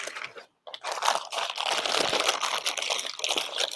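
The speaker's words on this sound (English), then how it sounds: "Okay, and we're going to take this other plastic bag." A plastic bag is handled and crumpled up close during food waste processing, producing dense, continuous crinkling and crunching after a brief silent gap, with no talking.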